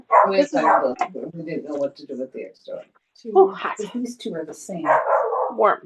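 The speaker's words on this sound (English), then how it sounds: "I apologize for the barking in the background. The dogs are playing again." Dogs bark in the background while playing indoors, their yips and barks mixed under continuous close conversation from several people.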